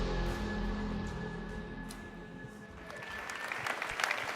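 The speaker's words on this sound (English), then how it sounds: "None of you should be clapping for this." Audience applause at the EA press show at E3 2018, a steady wash of clapping from a large crowd that dips briefly and then swells again toward the end.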